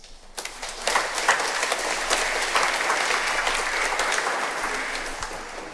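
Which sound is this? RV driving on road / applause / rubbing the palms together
applause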